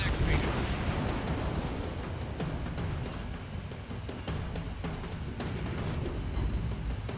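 Naval cannon fire from the battleship Amagi in World of Warships Blitz, a steady rumbling barrage of booming gun blasts with crackling impacts, with someone talking quietly beneath the game noise.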